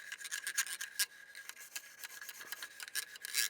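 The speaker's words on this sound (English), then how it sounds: "this little brush right here is good to get all down into that upper receiver" A small old brass wire brush scrubs down inside an AR-15 upper receiver, making quick, rhythmic scratchy rasping strokes that are close and fairly quiet, with no talking.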